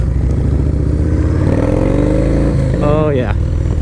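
Harley Low Rider S or Yamaha Warrior 1700 muscle motorcycle pulling away, a loud, close engine rumble rising in pitch as it accelerates, with a voice talking over it.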